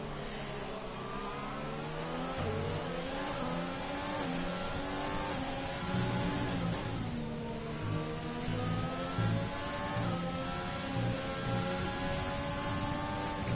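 Several rally race cars in a CRC race in Mexico accelerate and rev hard, their overlapping engine notes rising and shifting steadily at close range, loud and continuous with no talking.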